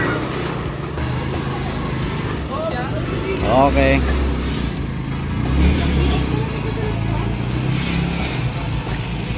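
A jeepcycle runs on a test drive in Pulangui, Albay, its motor rumbling low and steady, with people talking nearby over the engine.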